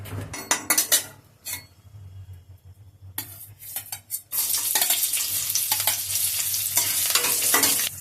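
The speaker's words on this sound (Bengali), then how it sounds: "এবারে উপকরণগুলি ভাজবো।" Ginger-garlic paste, chopped onion, green chilli and peas fry in hot oil in a pan, with clinks of a metal spoon stirring against the pan, then a loud steady sizzle that takes over.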